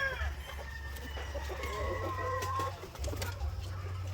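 Several chickens cluck and chatter nearby over a steady low hum, with occasional higher calls overlapping in a busy coop.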